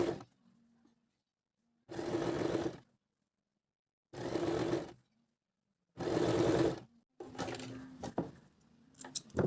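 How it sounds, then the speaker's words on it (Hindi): A sewing machine stitches folded fabric for an undershirt in three short, steady bursts of motor whir separated by pauses, then a busier stretch of handling and rattling at the end. "फिर इसको ऐसे फोल्ड करते हुए अब हम सिलाई करते हैं।"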